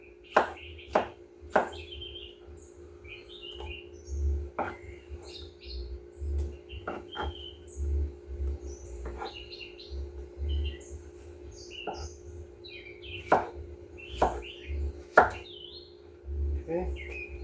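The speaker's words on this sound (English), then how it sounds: "I'll grab a row and just chop it down." Knife chopping a quartered row of food on a cutting board, a series of sharp, irregular taps, some close together, heard fairly close with a low background hum and faint bird-like chirps.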